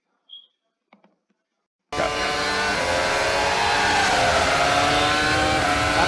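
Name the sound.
Formula 1 race car driving, Ayrton Senna video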